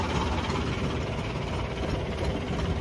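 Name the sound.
tractor engine idling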